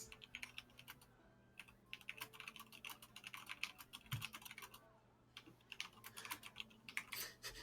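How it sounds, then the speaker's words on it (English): Rapid typing on a computer keyboard clatters in steady bursts of keystrokes, close and fairly quiet, with brief pauses between runs and no talk over it. "I just tripped up my typing."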